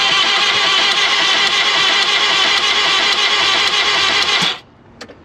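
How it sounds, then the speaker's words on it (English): Turbocharged K20 engine in a K10 Micra drag car cranks over with a loud, steady whirring and metallic clanging from a dead cylinder, then abruptly stops, followed by a couple of faint clicks. "you can hear a bit of metallic clanging"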